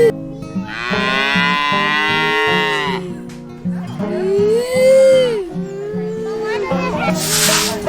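A cow mooing on a dairy farm, with a long, loud, drawn-out low call followed by shorter moos, while voices chatter around it.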